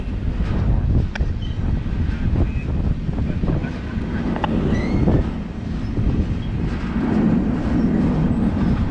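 A freight train made up of gondola and grain cars rolls past close by in a continuous loud rumble, with rhythmic clanks from wheels and couplings and some wind buffeting the microphone.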